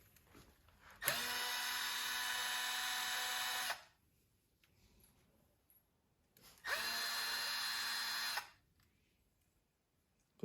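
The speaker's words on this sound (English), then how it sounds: "Have the 2mm on the drill." A power drill fitted with a 2mm bit, working on steering parts for an Axial Capra 1/18 scale RC crawler, whines in two separate bursts of a few seconds each, close and loud, with quiet gaps between them.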